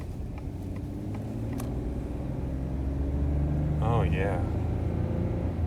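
A brand-new 2021 Ford F-150 with the 2.7-litre engine pulls at moderate throttle, a smooth low engine drone rising gently and heard from inside the cab under a man's brief excited speech.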